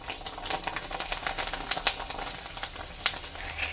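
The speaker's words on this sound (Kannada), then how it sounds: "ಇವಾಗ ನಾನು ಇದನ್ನು ಬಿಸಿ ಬಿಸಿ ಎಣ್ಣೆಯಲ್ಲಿ ಹಾಕಿ ಫ್ರೈ ಮಾಡ್ಕೊತೀನಿ" Rice sandige frying in hot oil, a steady crackling sizzle with scattered sharper pops throughout, close and alone with no talking.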